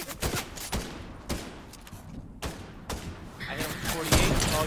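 Gunshots in the video game Fortnite: several sharp, loud shots spaced irregularly, some in quick pairs, over a busy game backdrop with a player talking.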